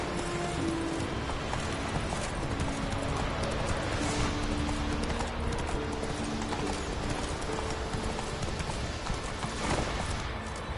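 Horse hooves gallop in The Witcher 3 video game, a continuous, rapid clip-clop at close range against a dense game soundscape.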